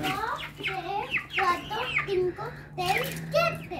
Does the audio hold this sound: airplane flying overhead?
no